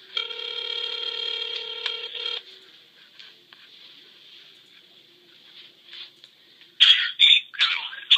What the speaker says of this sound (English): Calling JOE Wodiuk.